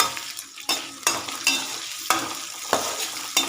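Unpeeled potato pieces sizzle in hot oil in a pan, with a rhythmic series of sharp scraping stirs cutting through the steady frying hiss.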